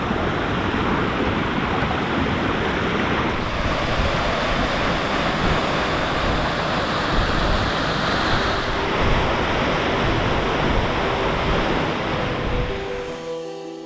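A waterfall on the Canol Road in Yukon roars as a dense, continuous rush of broadband water noise, loud and close, with nothing else over it until it cuts off at the end.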